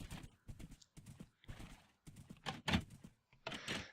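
Horse hooves clip-clop in Minecraft in quick uneven bursts of thumping steps with short pauses, moderately close and with no talk.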